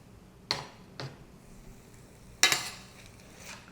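A spoon scrapes and stirs through a pan of barley risotto with crisp-edged shiitakes and turkey, giving three quiet separate clinks and scrapes over a faint background sizzle.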